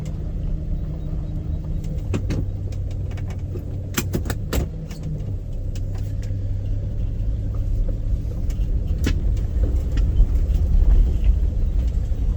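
A 1974 Dodge Dart Sport's engine idles steadily after sitting for 22 years, a continuous low rumble that grows slightly louder toward the end, with a few brief clicks and rattles on top and no talking.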